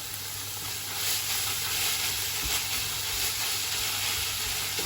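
Browned minced keema frying in a pan as ginger and green chili paste goes in, giving a steady, close, broad sizzling hiss that holds evenly throughout with no voices.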